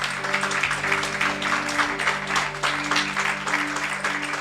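A church congregation claps as an offering of applause during a Spanish-language worship service, a steady, dense wash of many hands sustained throughout over a faint tonal hum, with no talking.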